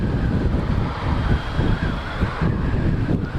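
Steady wind buffets the microphone on the Blackpool seafront promenade, a loud continuous low rumble with gusting swells and no talk.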